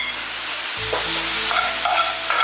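Loofah and youtiao fried dough sticks with preserved vegetable and sauce are stir-fried in a wok, with a steady close sizzle broken by the sharp scrapes and clatter of a spatula turning the food, and no talking.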